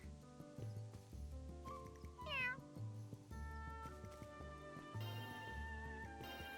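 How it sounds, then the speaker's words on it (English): A cat meows in the video game Adventures of Elliot, a short rising-and-falling cry over looping game music with steady tonal notes and light percussion, fairly quiet overall. "I didn't expect to meet a cat here."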